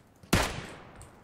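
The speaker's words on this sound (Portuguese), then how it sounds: "Acertei mais um tiro." A loud, close gunshot bursts out in a PUBG Battlegrounds match and rings off in a decaying tail, with faint game ambience before and after.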